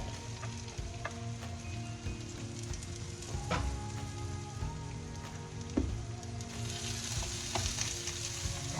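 Peppers and spinach fry in a little olive oil in a pan, giving a steady, close crackling sizzle with scattered pops and a few clinks of a utensil against the pan, with no talking.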